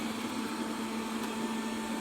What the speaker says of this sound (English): robot vacuum cleaner.